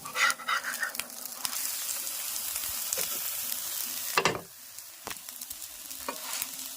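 Vegetable dosa batter mix frying in a pan and being stirred, a loud close sizzle with scraping strokes and a few sharp knocks, quieting briefly before building again.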